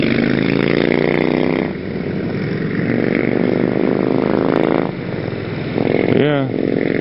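A motorbike with a CVT transmission revs loudly and steadily under throttle, its engine drone rising and falling with a brief dip and a sharp rev near the end.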